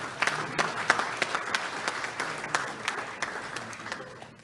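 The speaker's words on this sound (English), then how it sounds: "So I want you to give yourselves a round of applause for that." An audience gives a round of applause during a community talk show, with many hands clapping in a dense, uneven patter that stays fairly loud before tapering slightly toward the end.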